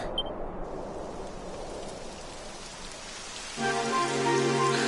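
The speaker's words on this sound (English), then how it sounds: "It would have to go and start raining, wouldn't it?" Steady video game rain on PS4 patters softly on a surface, a continuous hiss; near the end a sustained tonal hum rises on top of it.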